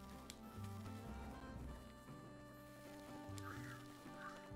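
A bird calls in the Cozy Grove video game, a short honking, duck-like cry over soft layered game music with sustained tones.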